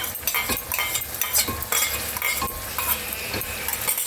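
A spoon stirs a cashew, peanut and yogurt paste into mutton korma frying in a pan, giving steady sizzling with repeated scraping strokes and light metallic clinks, close and loud.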